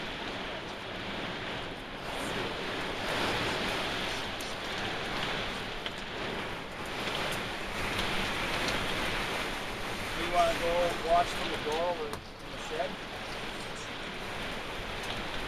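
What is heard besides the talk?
storm with wind and hail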